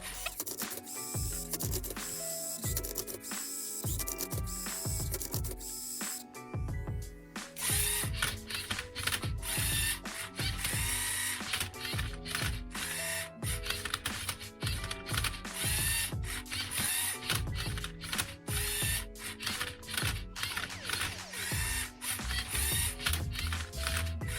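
A Lego robot turns a Rubik's Cube with rapid, continuous ratcheting clicks and whirring gear noise, loud and close throughout, with a short pause and a change in texture early on.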